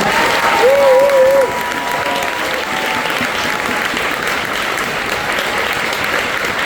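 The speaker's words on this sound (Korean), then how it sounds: "박수 한번 부탁드리겠습니다" A lecture audience applauds, steady clapping that holds at an even level throughout, with a brief whistle rising above it near the start.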